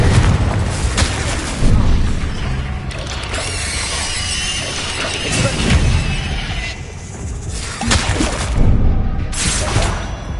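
Confringo blasting spells fired repeatedly in a wizard video game, a series of loud bursts and booms with mechanical clatter, recurring every second or two amid dense game noise.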